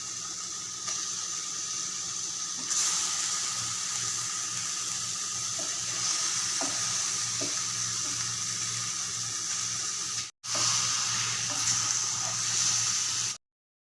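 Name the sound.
eggs sizzling as they are added to frying masala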